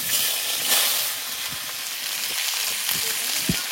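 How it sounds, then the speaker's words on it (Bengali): Broad beans, potato and cauliflower hit hot oil with dry red chilli in a kadai, giving a steady, close sizzle with a few soft stirring knocks and no voices. "কড়াইতে তেল দিয়ে দেব, তেলে একটু শুকনো লঙ্কা দেব, সিম আলু কপিটা দিয়ে দেব"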